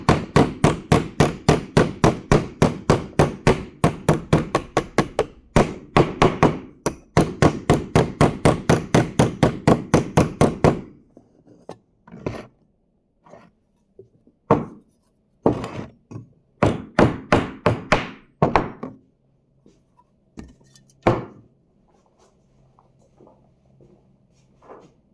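Rapid bursts of loud metallic hammer blows flattening a sheet-metal edge on an FJ60 Land Cruiser, dozens of fast strikes in two long runs, then sparser scattered hits separated by quiet gaps.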